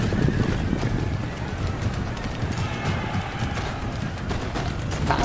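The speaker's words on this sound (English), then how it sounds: "the British are sending in some more cavalry" Cavalry horses galloping across a battlefield in the Empire: Total War game, a dense, continuous rumble of many hooves pounding together with faint whinnies mixed in, loud and sustained with no talk.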